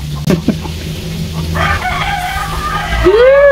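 A rooster crows loudly nearby, its rising call standing out over a few clucks and background farmyard noise.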